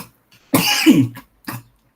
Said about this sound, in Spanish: que tengo un poco de tos